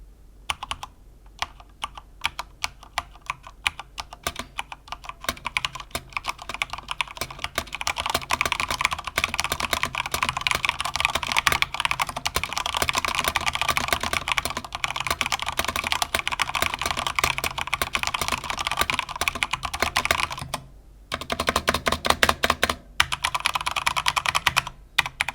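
Rapid typing on a white Corsair K70 SE Rapidfire keyboard with speed switches and PBT double-shot keycaps, dense close clatter of keystrokes running almost nonstop with a few brief pauses.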